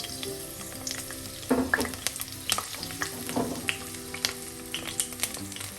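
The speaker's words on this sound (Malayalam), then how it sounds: "വെളിച്ചെണ്ണ ചൂടാകുമ്പോൾ അരിഞ്ഞു വെച്ചിരിക്കുന്ന വെളുത്തുള്ളിയും പച്ചമുളകും ചേർക്കാം" Chopped garlic and green chili frying in hot coconut oil, a steady close crackling sizzle with brighter spits and the occasional stir, no talking.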